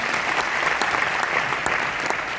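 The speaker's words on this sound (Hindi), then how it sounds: "तो कैसी ताली होनी चाहिए।" Brief burst of audience applause at a DXN product meeting, a dense, steady clapping from a crowded room with a few sharper individual claps standing out.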